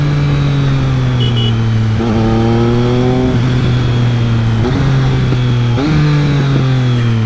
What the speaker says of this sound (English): Yep, after every downshift you hear little pops.